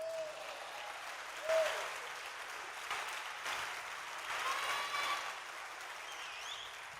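Congregation applauding during a united Protestant church service in Huelva, a faint, distant patter of clapping that swells slightly midway, with indistinct voices underneath.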